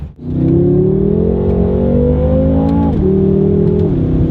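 A luxury sedan accelerates hard with traction control flashing, its engine note climbing loud and steady, dipping briefly at a gear change near three seconds before rising again, with no talking.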